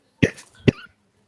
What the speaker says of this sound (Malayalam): ചുമ തുടങ്ങിയല്ലോ